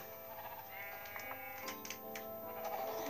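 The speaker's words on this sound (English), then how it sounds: "I found the pink sheep." Sheep bleat in the Minecraft video game, several overlapping wavering calls that are soft and steady, with faint clicks and no speech.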